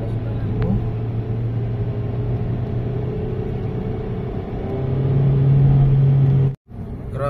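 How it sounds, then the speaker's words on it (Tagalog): Strong sandstorm wind in Saudi Arabia roars steadily with a low, broad rumble, building louder toward the end before a brief cutout, close and constant throughout. "Ayan, lakas ng hangin."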